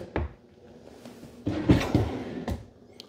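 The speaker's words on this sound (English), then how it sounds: "They have kind of a soft close on your cabinet doors." Soft-close cabinet doors in a 2024 Forest River Sierra 401FLX destination trailer shut with a few muted wooden thumps and soft knocks, spaced out over about three seconds in a quiet interior.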